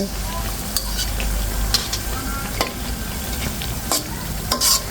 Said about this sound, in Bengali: খুব সুন্দর করে চপগুলো ভেজে নিচ্ছি।